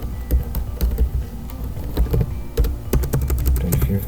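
Keys on a computer keyboard clatter in quick, uneven bursts of close taps while someone lays out a church flyer in Adobe Photoshop, with a low steady hum underneath.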